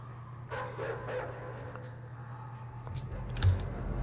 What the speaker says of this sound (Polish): A, psy!